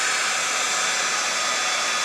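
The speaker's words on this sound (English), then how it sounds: "So here's my heat gun, and sorry for the noise." A heat gun blows hot air onto embossing enamel to melt it, a loud, steady, close whooshing roar with no break or talk throughout.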